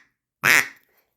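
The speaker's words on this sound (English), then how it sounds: "This is a Falks WA33 duck call." A Falks WA33 single-reed duck call gives one short, loud, raspy quack, close and alone in otherwise quiet surroundings.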